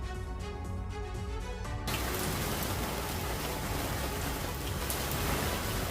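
Heavy rain driven by strong winds pours down over Delhi, a dense, steady hiss of falling water that swells louder after the first couple of seconds and holds constant with no voices.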